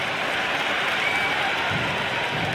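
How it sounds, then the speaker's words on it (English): Stadium crowd at an India vs England T20 cricket match applauds and cheers in a continuous dense roar, loud and steady throughout. "It's evident and ever so audible that the crowd is at near bursting point at today's play."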